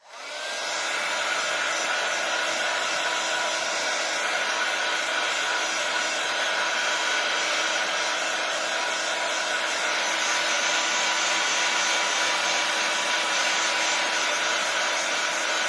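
A hair dryer runs steadily and close for the whole stretch, blowing over the last side of a wooden box being dried in a mixed-media craft project; the airflow whine holds constant with no pauses and no talk.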